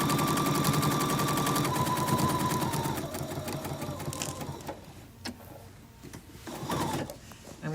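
A sewing machine stitches binding onto a quilted turkey trivet, a loud, rapid, steady mechanical clatter that runs for a few seconds and then stops, leaving quiet handling noises.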